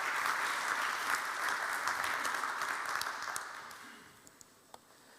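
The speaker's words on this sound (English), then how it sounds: "Your applause for Antonia." Seminar audience applauding at a poultry health and nutrition event during VIV Europe 2022, a steady wash of clapping that fades out over the last second with a few isolated claps.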